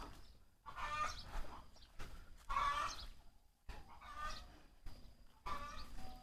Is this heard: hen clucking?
yes